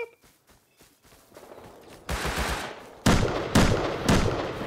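Gunfire in the survival shooter Rust or PUBG, a few sharp rifle shots building from faint distant pops to louder close cracks in quick succession, with no talking.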